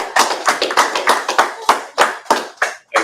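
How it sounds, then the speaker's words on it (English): Audience clapping in unison at a religious feast gathering, about a dozen sharp, loud claps in a steady rhythm over three seconds, with no talking. "All right, let's clap it up."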